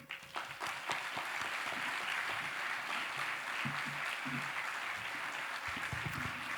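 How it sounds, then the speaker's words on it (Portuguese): A concert audience celebrating Israel's 75th anniversary applauds an honoree, dense sustained clapping from a large crowd with a few sharper nearby claps, steady and fairly distant-sounding throughout. "Zalmen, receba os aplausos da Keilah."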